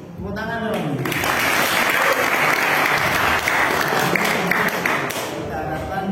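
An audience at a Javanese wayang show claps in loud, sustained applause that starts after a brief spoken word and dies away near the end, with voices heard at the edges.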